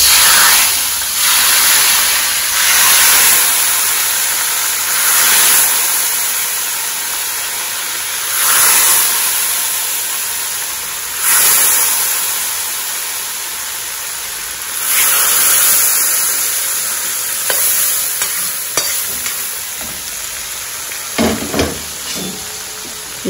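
Hot mustard-seed tempering oil poured over lemon pickle sizzles and crackles in repeated bright hissing bursts that swell and fade, with occasional clinks near the end.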